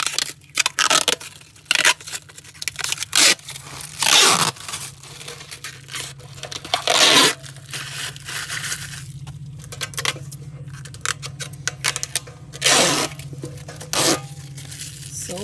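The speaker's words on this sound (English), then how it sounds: "it does take a bit of effort to kind of yank this plastic off." Protective plastic film is yanked off the panels of an L-shaped raised bed, making loud crinkling, tearing bursts in irregular pulls with short pauses between them. The sound is close and has no talk over it.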